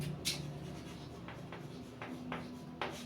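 Pen on paper as a science definition is written out by hand for an exam lesson: faint, soft scratching with several brief stroke accents spaced irregularly over a quiet, steady background.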